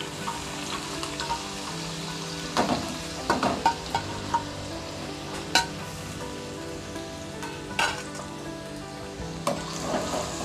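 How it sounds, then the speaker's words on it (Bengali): Crushed garlic fries in hot ghee for a dhaba-style mixed dal tarka, a steady crackling sizzle with intermittent sharp scrapes and clanks of stirring in the pan. "এখানে আমার ঘিটা গরম হয়ে গেছে। এবার আমি কোচানো রসুনগুলো দিয়ে দেব।"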